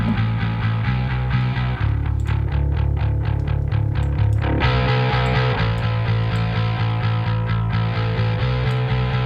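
Bass guitar driven through the Neural Parallax bass distortion plugin, playing a steady, loud, heavily distorted line with thick low end and gritty upper harmonics, picked notes repeating rhythmically throughout with no talking.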